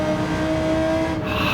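A GT3 race car with a turbo engine in Gran Turismo 7 holds a loud, steady high-pitched engine whine near the top of its revs, with faint tire squeal and a slight shift in tone near the end.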